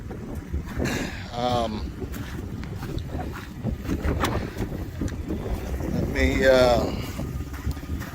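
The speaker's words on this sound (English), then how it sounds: "Sorry about the wind." Outdoor wind buffets the microphone beside a 2011 Ford F-150 EcoBoost pickup, producing continuous loud rumbling gusts, with a voice briefly heard in the clip.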